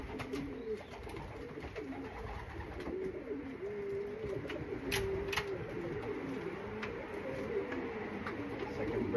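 Racing pigeons coo softly and repeatedly in a loft at a summer pigeon race, a low steady murmur of birds close by with faint chirps and no one speaking.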